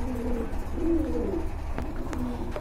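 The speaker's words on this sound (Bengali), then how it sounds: "এই যে দেখেন রেড গিয়ারের কবুতর মাশাআল্লাহ।" Pigeons at a pigeon market cooing in low, rolling throaty calls, several birds close by with a continuous murmur and a few faint clicks behind.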